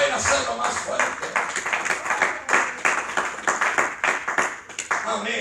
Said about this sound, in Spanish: ¿Cuánto dan ese aplauso al Señor?